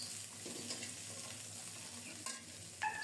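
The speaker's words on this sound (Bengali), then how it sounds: "এখন পেঁয়াজটাকে একটু বাদামি করে ভেজে নিয়ে ঝিঙে আর কয়েকটা কাঁচামরিচ ফালি" Onion, ridge gourd and slit green chillies fry in oil in a pan, giving a soft, even sizzle with a few clinks and scrapes toward the end.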